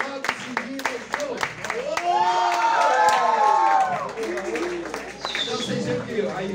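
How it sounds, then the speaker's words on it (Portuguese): Hand claps keep a steady, evenly spaced beat as a rhythm for a rap. Sharp, close claps sound alongside a voice chanting or rapping over them. "aí nós botamos o ritmo através das palmas"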